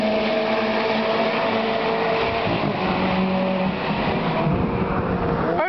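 A loud SEAT Leon Eurocup race car engine roars steadily on the Oschersleben track, its droning pitch rising and falling as if revving hard nearby, continuous throughout with no voices.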